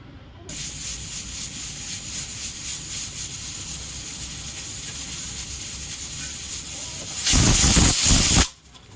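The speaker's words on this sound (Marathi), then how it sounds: "कुकर लावून घेते आणि दोन शिट्या मस्तपैकी काढून घेऊ मीडियम आसवरती" A pressure cooker cooking potato and spinach on medium heat hisses steadily, then lets out one loud, close whistle blast of escaping steam for about a second before it cuts off.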